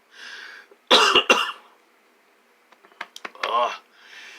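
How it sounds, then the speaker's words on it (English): Two sharp, loud coughs close to the mic, followed by a few softer clicks and a brief throat noise, with quiet breathy sounds around them. "Sorry for me coughing all the time."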